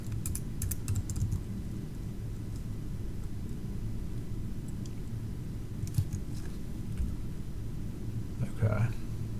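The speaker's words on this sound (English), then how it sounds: "as I'm typing it, I accidentally mistyped something" Quick bursts of close, light clicking keystrokes on a computer keyboard, tapping in short clusters at the start and again midway, under a low room rumble with a voice briefly speaking near the end.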